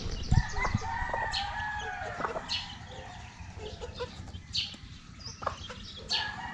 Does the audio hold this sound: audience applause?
no